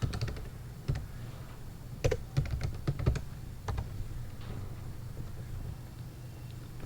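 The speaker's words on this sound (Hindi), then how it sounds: "आप इस मेन्यू के अंदर टेक्स्ट बॉक्स के अंदर डेटाबेस का नाम लिखते हैं" A database name being typed on a computer keyboard: scattered clicky keystrokes in small irregular bursts, close and fairly crisp, against a low steady background hum with no talking.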